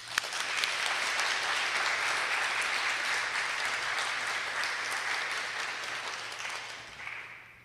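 Sustained audience applause at an award ceremony welcoming an ecology award winner, a steady wash of clapping from a large room that holds for several seconds and then tapers off toward the end.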